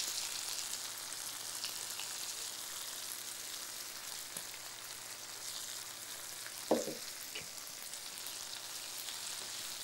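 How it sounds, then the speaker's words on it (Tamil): Tomatoes cook with turmeric and salt in a pan for a cumin kuzhambu, giving a soft, steady frying hiss that stays fairly faint, with one brief clatter of a utensil. "இது நல்லா கரைஞ்சி தக்காளி வதங்கணும், அப்போ தான் நல்லாயிருக்கும்."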